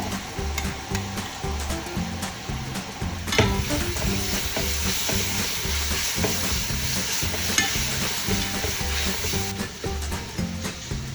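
Onions with ginger-garlic paste sizzling in a pan for mutton biryani, a steady close frying hiss broken by repeated scraping stirs, with no talk.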